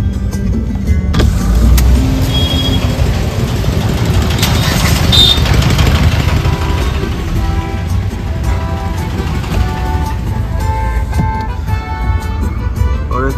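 Cars stand in a heavy traffic jam on the road to Tarapith, engines idling in a loud, close, steady rumble with passing vehicle noise and occasional horn-like tones.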